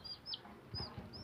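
A chick clucks softly in a domestic setting: a few brief, high chirping clucks, close but quiet, with no talk.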